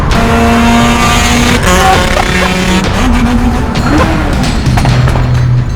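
A Peugeot 106 GTI and a Renault Clio race each other. Loud, close engines rev hard and climb in pitch, with drops between gear changes and a constant roar throughout.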